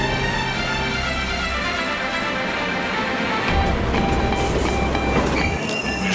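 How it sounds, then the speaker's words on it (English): A train arriving at a station rumbles and clatters along close by, wheels rattling over the rails with a brief high squeal near the end. "Now arriving in Bali. This train terminate in Bali."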